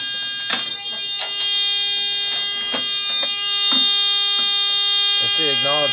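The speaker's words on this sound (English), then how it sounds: "start beeping again" A Simplex 4001 fire alarm panel beeps in repeated short electronic tones at a fairly even pace, with a sustained high whine behind them.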